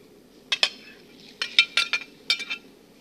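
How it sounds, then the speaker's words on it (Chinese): Metal clinks and clatters of dishes and utensils as ingredients go into a pot of boiling hot and sour soup, several sharp separate chinks in small bursts against a low simmering background. "汤滚了，那么现在就把这个所有的材料呢都下锅了"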